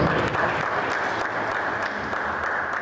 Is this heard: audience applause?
yes